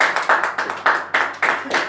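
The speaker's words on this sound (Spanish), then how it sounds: "Puede dar un fuerte aplauso al Señor." Church congregation clapping in unison at the close of a service, loud rhythmic claps in a steady beat of roughly three per second, close and clear.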